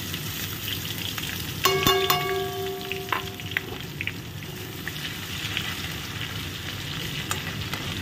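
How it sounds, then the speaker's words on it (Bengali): Sliced onions frying in the leftover oil from frying vetki fish, with whole garam masala, sizzle steadily and densely in the pan, while a few metallic clinks and stirring scrapes come through near the start. "ওই মাছ ভাজা তেলের মধ্যে কিন্তু তোমার পেঁয়াজটাকে ভাজছি।"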